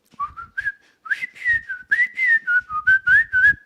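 A person whistles a TV show theme, a clear bright melody of short phrased notes with brief pauses, close and alone without talk.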